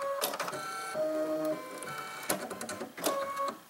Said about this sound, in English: I just press this automatic thread button right here